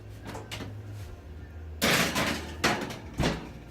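Kabocha squash going into a kitchen oven, with a loud thud of the oven door or rack followed by two more sharp knocks and clatters close by.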